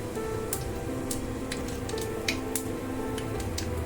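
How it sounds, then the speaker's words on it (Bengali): Black cumin seeds drop into hot oil in a pan while fish is being cooked, giving a soft, steady sizzle with scattered crackles and pops, heard close and without any talk. "তেলের মধ্যে সামান্য একটু কালো জিরে দিয়ে দিচ্ছি"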